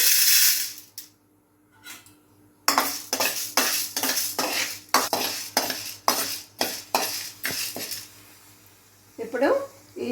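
Sorghum grains are roasted in a hot pan, with a rhythmic series of scraping, rattling strokes that repeat about every half second, and a voice briefly speaks at the end.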